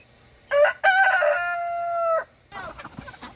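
A rooster from a backyard flock of farm chickens crows loudly and close by, one long drawn-out call that follows a short opening note, with faint clucking and scratching after it.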